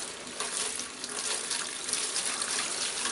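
Fuel gushing and splashing from a 1947 Nuffield grader parked for twenty years, a steady broad liquid rush that runs unbroken and fairly loud throughout.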